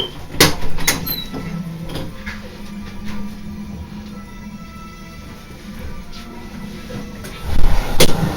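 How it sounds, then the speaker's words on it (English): Someone pounding on a door with heavy, irregular thuds, a few spaced blows early and a loud cluster near the end, close and forceful with no clear talking over it. "I was beating on the door like a damn maniac"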